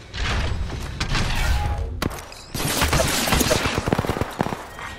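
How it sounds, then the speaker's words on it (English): Enemy gunfire in the video game Apex Legends: loud, rapid bursts of automatic shots and cracking impacts, with a brief pause midway before another heavy stretch of firing. "I am taking fire, friends. Hostiles shooting at me."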